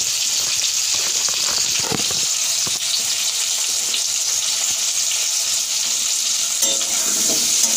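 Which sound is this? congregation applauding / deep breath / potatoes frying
potatoes frying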